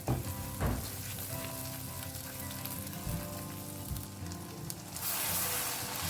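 Masala paste for restaurant-style paneer tikka masala fries in oil over a medium flame, giving a continuous close sizzle with an occasional stirring bump, no speech.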